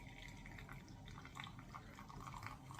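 Coffee decoction from a Moka pot with a pouring beak streams steadily into a cup already sweetened with stevia, a soft continuous liquid trickle with faint dripping, close and quiet throughout.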